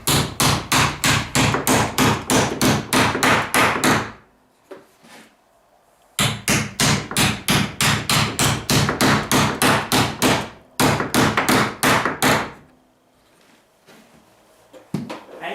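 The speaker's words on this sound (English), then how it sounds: "Maybe I could hammer these flat." Metal pieces hammered flat in a shed: three runs of rapid, sharp, ringing hammer blows, loud and close, each burst separated by short pauses with faint clinks.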